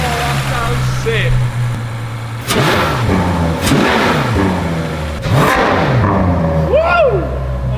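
A car's engine revs repeatedly in a car-building video game, rising and falling in several loud surges over a steady idle, with voices talking over it.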